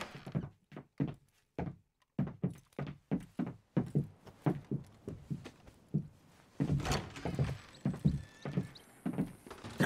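Hooves of a horse in Red Dead Redemption 2 pound out a steady, close clip-clop rhythm of distinct thuds, growing busier and denser toward the end.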